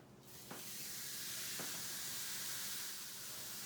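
Beef fajita meat sizzles steadily in a hot pan, a broad continuous hiss that swells after the pieces go in, with a couple of faint clicks near the start and no talking.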